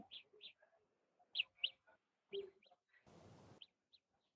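Chirpy, bird-like alarm tone from Samsung Galaxy Buds earbuds in Find My Device mode, repeating in short high bursts with gaps, followed by a brief hiss of noise near the end; fairly quiet and close.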